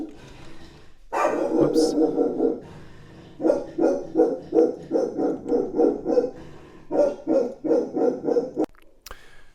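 A dog barks in a long run of loud, close, rapid barks that come in bursts with short gaps, and a person speaks briefly between them.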